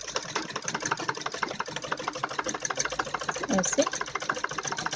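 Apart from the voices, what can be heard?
sewing machine stitching a straight seam on a kurti neck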